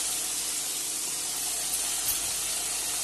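Masala spices frying in hot oil while being stirred in a pan for palak paneer, a steady, close, even sizzling hiss with no pauses.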